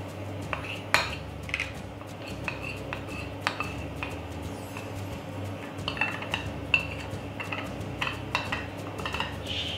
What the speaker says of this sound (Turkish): Malzemelerin hepsini birlikte güzel çırpıyorum ve kaplara alıyorum.